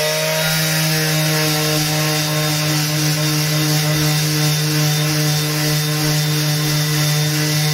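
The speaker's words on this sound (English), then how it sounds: "So sometimes it's just a little bit more sanding and you can deal with it without putting more filler on." Body filler being sanded with a power sander, giving a loud, continuous abrasive whir with a steady motor tone and no pauses.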